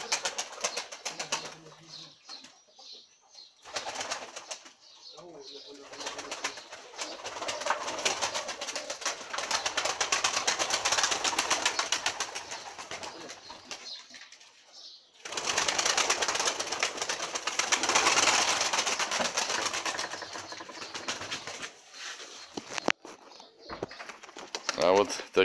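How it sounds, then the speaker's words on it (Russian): Pigeons coo and flap their wings in a loft, with bursts of wing flapping and soft cooing at close range, and people talking now and then between the noisy stretches. "вот голубята у нас уже"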